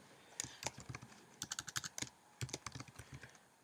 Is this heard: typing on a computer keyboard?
yes